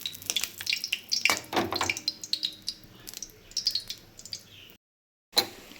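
Banana flower fritters lifted from hot frying oil in a kitchen, giving a busy crackle and sizzle with scattered bubbling pops and clinks, fairly close, then a brief cut to silence before one more crackle.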